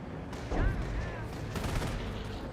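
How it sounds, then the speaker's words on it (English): Sector artillery barrage landing in Company of Heroes, loud shell blasts with whistling incoming rounds and gunfire crackle, heavy booms near the start and again later. "Now got sector artillery in this sector"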